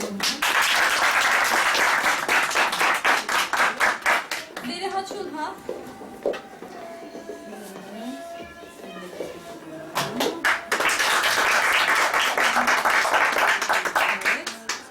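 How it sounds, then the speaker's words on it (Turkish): A hall audience at a Quran course report-card ceremony in Soğuksu Pınarbaşı claps loudly and steadily, pauses while people talk and move about, then erupts again in dense, sustained applause. "Arkadaşlar alkışlayın"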